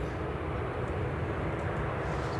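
An easyJet Airbus A320 moving at Manchester Airport on an early morning, heard as a faint, steady engine rumble at a distance that stays even from start to finish.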